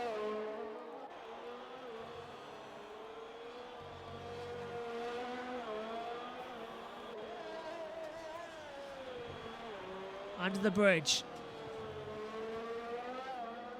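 Race cars in a sim racing game at the Singapore street circuit, a steady engine drone with shifting harmonic pitch throughout, a brief louder burst near the end, with a commentator talking over it.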